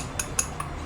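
A spoon whisking cake batter in a bowl for a microwave pound cake, heard as three quick, evenly spaced metallic taps close by.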